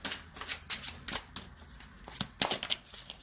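Tarot cards shuffled by hand, a quiet close run of crisp riffling flicks and soft slaps in uneven bursts, with no talking.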